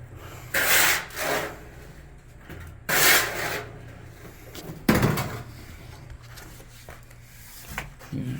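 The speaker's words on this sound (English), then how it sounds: "go to the hand scraper" A hand scraper drags across mortar in a custom concrete shower pan, giving short, gritty rasping strokes in separate bursts with quieter gaps and faint handling noises between them.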